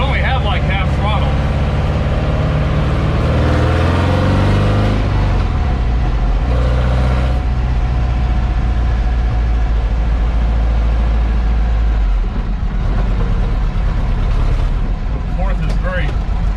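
A Volkswagen Beetle Volksrod Baja build on its first test drive at about half throttle: a loud, continuous, rough air-cooled engine drone and road rumble that shifts in pitch as the gears change, with voices talking over it.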